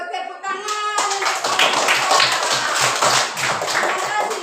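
Children in a classroom clap their hands together, a dense, steady burst of many overlapping claps lasting several seconds, close and loud, after a brief adult voice at the start.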